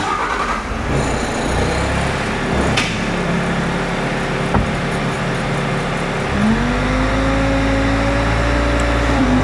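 A Bobcat skid steer engine cranks and fires, then settles into a loud, steady diesel idle that rises slightly in pitch near the end, heard close up with no talking.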